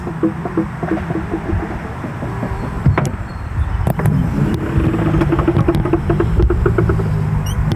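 An old Acura Legend's power window motor grinds and whirs steadily as the glass rolls, with a few clunks and knocks along the way and a low mechanical hum beneath.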